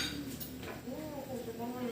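A cooking pot is handled at home, giving a few soft metallic clinks and knocks, quiet and close, with faint voices in the background.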